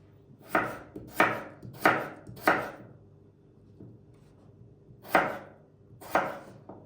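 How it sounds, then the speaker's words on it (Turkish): A knife thinly slices potatoes on a cutting board, four quick sharp strokes, a pause, then two more, each crisp and close. "Patatesimizi ince ince doğrayacak."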